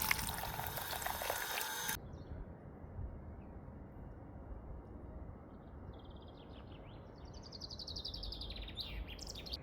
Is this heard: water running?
yes